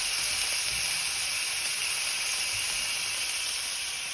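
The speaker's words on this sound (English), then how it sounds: "If you don't hear that sizzle, then there's something wrong." A ribeye steak sizzles in a hot oiled pan, giving off a loud, steady, close hiss that runs unbroken throughout.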